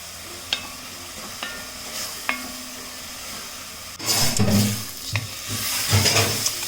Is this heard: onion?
yes